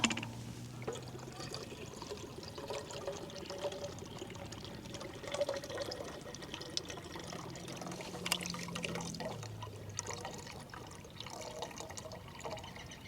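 A steady stream of water is poured at a camp into a pot holding a litre of water and Wayfarer meatballs and pasta. It runs continuously for about thirteen seconds, close but soft, with no talk.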